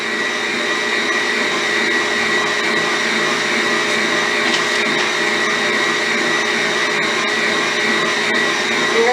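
Electric mixer beating butter for cutout cookie dough, a loud continuous motor whir with steady hum and no pauses, running alone without talking.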